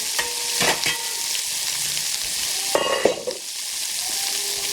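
Food sizzles steadily in a hot pan, with a few clattering stirs and scrapes of a utensil, no voices.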